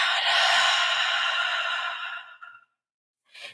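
A single long, deep exhalation during a guided breathing exercise in a spiritual blessing session, a breathy rush that fades over about two and a half seconds, followed after a pause by a short, softer breath.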